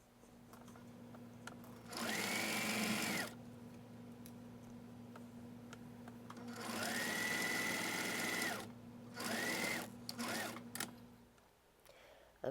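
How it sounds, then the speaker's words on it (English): A sewing machine stitches along a fabric edge for a sleep bonnet in bursts of fast, even whirring, running three times with quiet pauses between, over a faint steady hum. "I'm going to go ahead and carefully sew this along the edge."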